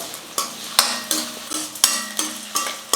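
Onions, curry leaves and capsicum sautéing in oil for semiya kichadi, with a steady frying hiss broken by repeated clinks and scrapes of a spoon stirring the pan at close range, and no talking.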